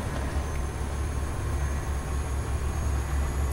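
A subway train arriving in the bus simulator game OMSI 2 makes a loud, steady low rumble, continuous throughout with no voices.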